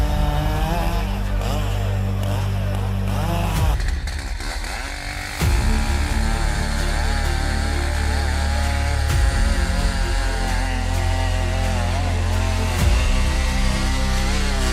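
A large chainsaw with a 6.4-horsepower engine and 36-inch bar roars loudly and continuously while cutting through giant trees, with its pitch dipping under load and rising again as it bites into the wood.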